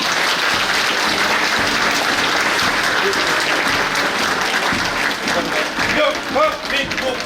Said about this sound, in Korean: 시청자에게 축하의 박수를 보내주시기 바랍니다.